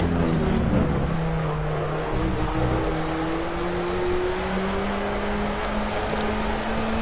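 A Formula A race car engine in Project CARS drones steadily, its pitch climbing gradually as it revs through a gear, loud and continuous with a faint engine whine on top.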